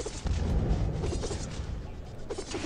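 Juggernaut bombing explosions in the mobile strategy game Tower Conquest: dense, rumbling booms and bursts that roll together into a loud, continuous barrage lasting a few seconds, with no talking.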